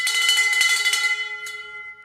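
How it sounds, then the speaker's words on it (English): A single bell struck in a room rings out with bright, clear metallic overtones that fade slowly over about two seconds, with a faint second tap near the end, loud and close with no voices. "Let me show you how this bell rings."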